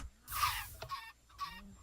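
Chickens in the video game Minecraft give two or three short, quiet clucks in quick succession, heard alone with no talking.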